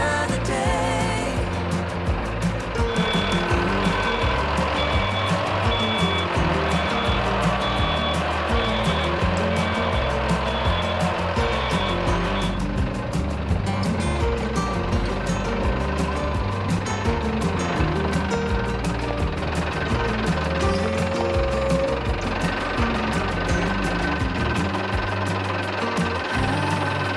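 Small wheel loader with a 50 horsepower diesel engine running, a loud continuous mechanical rumble and knocking drone with clanking overtones, steady throughout with no pauses.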